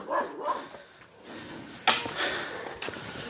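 A dog barks outside a house in the evening, giving a few short, sharp barks at a moderate distance, with faint background noise between them.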